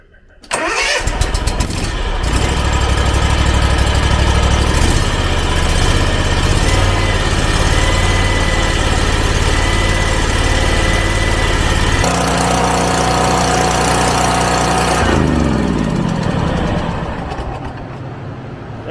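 A small Kawasaki FR engine, after a valve lash adjustment, cranks and catches, then runs loudly at a steady, rough idle for a long stretch before easing off near the end.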